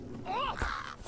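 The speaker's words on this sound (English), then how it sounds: "It sounds like crows." Crows cawing in the Lord of the Rings Online game, set in Bree-land: one harsh, rising-and-falling cry heard close and fairly loud, with a scratchy burst following, over a low background rumble.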